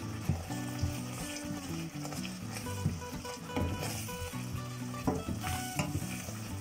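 Punjabi chole masala with kasuri methi fries in a pan over a lowered flame, with a constant close sizzle and repeated scraping stirs of a spoon against the pan.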